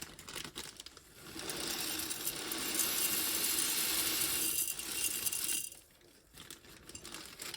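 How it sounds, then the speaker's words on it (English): White gravel pours into a small glass terrarium as a steady gritty rattling stream lasting several seconds, swelling in the middle, then breaking off into a few scattered clinks of stones against glass. "let's get some gravel in here. I've just got a little bag of white gravel to use it"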